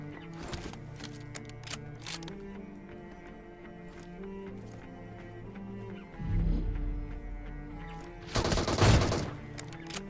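Gunfire in the mobile battle-royale shooter PUBG Mobile: scattered sharp shots over a low rumble, then two heavier, louder bursts near the end, with no talking.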